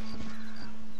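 A horse in the video game Red Dead Redemption during a horse-thief chase gives a short burst of hoof clip-clop with a brief whinny over a steady game hum.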